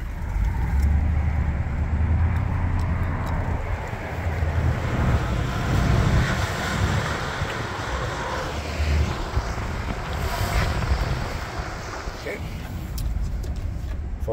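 A 1998 Chevrolet Silverado 4x4 pickup drives in four-wheel low on a slope, giving a loud, steady rumbling drone that stays constant throughout with no breaks.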